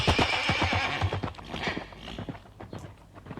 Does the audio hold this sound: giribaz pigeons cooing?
no